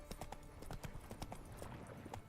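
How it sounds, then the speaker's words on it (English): Horse hooves clip-clop in a quick, even rhythm in The Witcher 3: Wild Hunt, the sharp hoof strikes repeating under a low, steady background, with no voices present. "Here's my magic horse."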